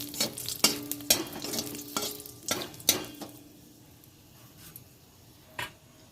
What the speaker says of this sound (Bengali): দুটো তেজপাতা, দুটো শুকনো লঙ্কা দিয়ে দিলাম ফোড়নে।